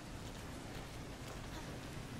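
Rain falls steadily in Resident Evil Revelations 2, an even, dense hiss of drops on surfaces that continues unbroken throughout.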